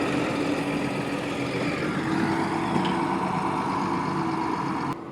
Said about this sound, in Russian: Здесь трактора ездят.